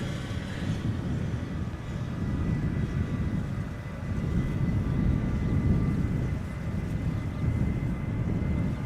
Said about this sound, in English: KLM Flight 1251 going to bloody Helsinki. 737-800, 25 years old, PHBXC